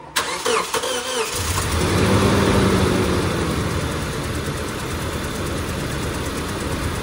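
A Toyota Fortuner with a 2TR gasoline engine cranks and catches, then settles into a loud, close, steady idle that runs rough and misfires, with no talking over it.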